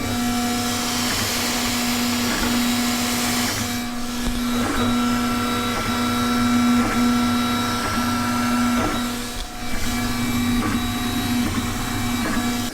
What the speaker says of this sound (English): You can definitely hear the motors running, and obviously some fan noise also